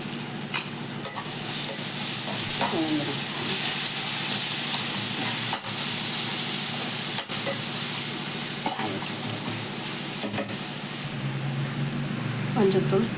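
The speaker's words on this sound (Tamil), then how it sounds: "மஞ்சத்தூள், இஞ்சி பூண்டு பேஸ்ட் எல்லாம் போட்டு வதக்கிட்டு" Ginger garlic paste and turmeric sauté in hot oil for a semiya peas masala, with a constant loud sizzle and hiss and occasional spoon taps and scrapes against the pan.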